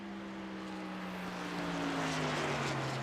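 Race trucks circle Charlotte Motor Speedway in a Truck Series event, a steady, distant engine drone with engine notes that slowly slide in pitch, running without a break and with no talk.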